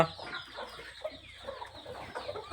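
Native free-range chickens at a small poultry farm cluck in a steady, busy chorus, close and moderately loud, with no voices over them.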